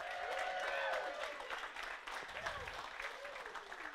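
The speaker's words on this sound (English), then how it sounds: "So round of applause for those guys." Wedding guests applaud the hosts at an outdoor reception, moderate clapping with some cheering voices blending through the few seconds.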